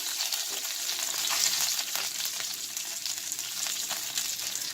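Beef tips browning in a frying pan give off a steady, close, loud sizzle with faint stirring, and no one speaks.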